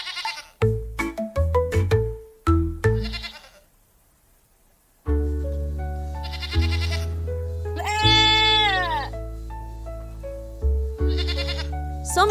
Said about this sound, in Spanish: Emiten un sonido llamado balido.